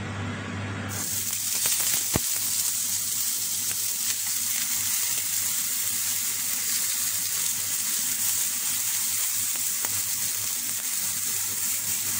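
Food frying in oil in a pan in a home kitchen, giving a loud, steady, close sizzle that runs without a break through the whole stretch, with no talking.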